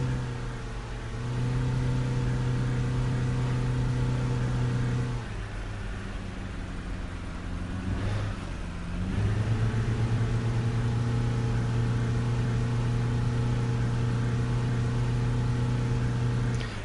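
Steady droning bus engine in Tourist Bus Simulator, a hum with even harmonic tones that dips briefly as the revs drop and then settles back to a constant, loud running note, with no talk.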